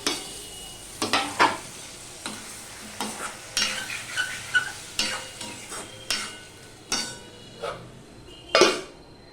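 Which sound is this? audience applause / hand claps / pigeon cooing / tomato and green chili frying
tomato and green chili frying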